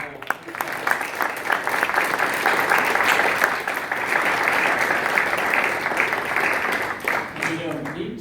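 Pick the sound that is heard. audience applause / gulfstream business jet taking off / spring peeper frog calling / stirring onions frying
audience applause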